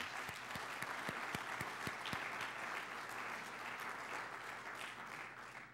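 Audience applause at the 2011 Gaithersburg State of the City address, a few distinct sharp claps at the start swelling into a continuous, even round that gradually thins toward the end, heard at a distance and fairly quietly.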